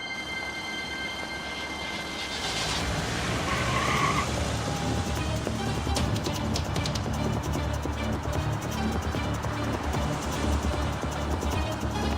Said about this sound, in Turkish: Ayan araç önümde. Takibe başlıyorum.